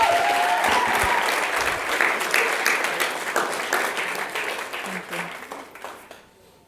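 Sustained applause from the audience at a school district governing board meeting, honoring two choirs and their leaders, dense and steady before thinning and fading out near the end.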